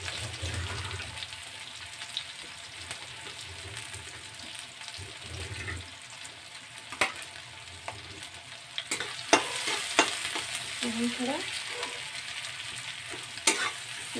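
Onions, green chillies and ginger sizzle and fry in a pan, a steady crackling hiss with occasional stirring clinks and scrapes, close and moderately loud, no talking.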